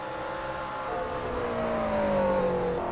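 McLaren class race car engine rising in pitch under acceleration during a racing broadcast, a steady continuous drone with tonal harmonics, nearby and fairly loud, no talking.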